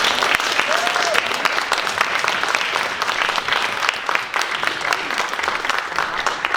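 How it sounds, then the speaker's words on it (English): Sustained audience applause at a happiness conference, dense steady clapping filling the room from start to finish with a faint cheer early on. "Please give a huge round of applause to John Polish."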